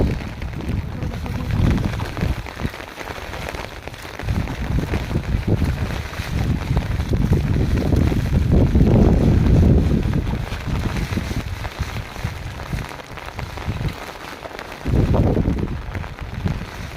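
Heavy rain pours down on a village as a steady, dense roar with a deep rumbling undertone that swells and eases in surges over the whole stretch.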